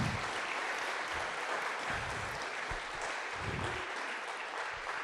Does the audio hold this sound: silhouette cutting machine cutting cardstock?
no